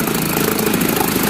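A steady, loud Mercury 4.5 outboard motor drone holds a constant idle with a low rumbling chug throughout on a 1977 MacGregor sailboat, no voices over it.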